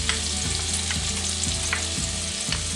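Finely chopped large shallot frying in four tablespoons of hot bacon grease for a roux, a steady close sizzle with soft stirring scrapes recurring about every half second, no voices.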